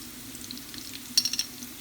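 Food being stirred in a pan while making kuska pilaf with sauced chicken, a soft background sizzle with a few quick scraping clinks of a utensil near the middle, quiet and close.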